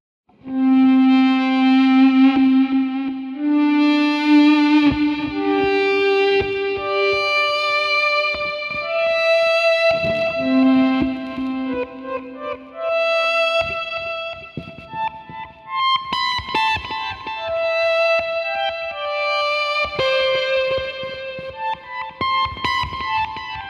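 Sustained electric guitar notes swell in gently with a volume pedal, Yes-style, washed in echo and reverb, forming slow layered melodic lines with no voices.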